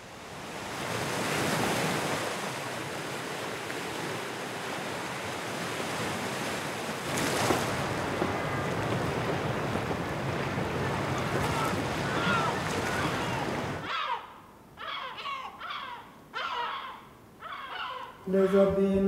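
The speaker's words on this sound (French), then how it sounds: "les vagues, ça revient sans cesse, parfois un peu plus fort, parfois un peu plus doux" Sea waves roll and wash against rocks at the coast, a broad steady surf roar with wind for most of the stretch, then breaking into separate softer surges near the end.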